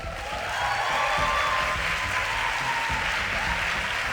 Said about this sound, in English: they cheer the most nonsense line in the speech